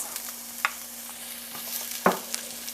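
Onions sautéing in a little oil in a pan, a soft steady sizzle broken by a couple of sharp stirring scrapes and clicks, with a faint steady hum underneath and no talking.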